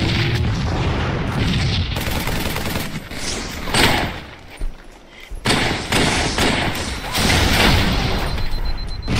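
Battle rifle gunfire in the Dying Light video game, dense bursts of sharp booming shots that fill most of the stretch, with a brief lull midway before firing resumes loud and close.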